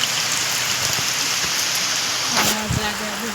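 Steady rain pours down in a village, a dense, loud hiss of drops on surfaces filling the whole span, with a voice speaking briefly underneath near the end.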